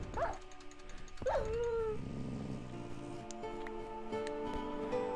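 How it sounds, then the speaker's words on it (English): Dogs in the Minecraft video game bark and yip twice in quick succession near the start, followed by whimpering game creature sounds layered over steady in-game music and ambience. "Hey look, doggies. Only evil doggies."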